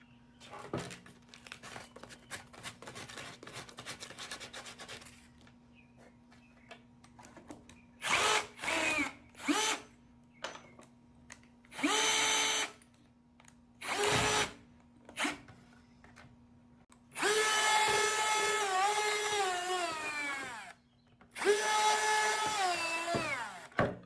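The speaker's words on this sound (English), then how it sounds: "I'm really using a combination of the 1/2-inch drill bit and sandpaper to smooth these edges on the holes." Power drill with a 1/2-inch bit working the edges of holes in a DIY vermicompost bin, several bursts of high-pitched whirring, some several seconds long, between quieter handling and rustling, close and fairly loud.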